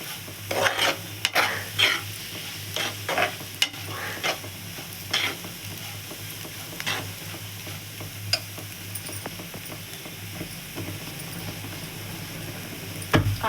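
Bitter gourd fry being stirred in a frying pan, with scattered scraping strokes of a spatula against the pan over a steady low sizzle, louder early on and sparser toward the end.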